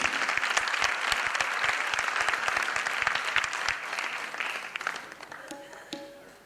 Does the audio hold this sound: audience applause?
yes